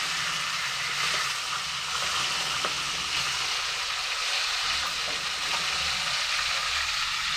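Food dry-fries in a pan, giving an even, unbroken hiss of sizzling with faint crackles, close up and steady, with no talking.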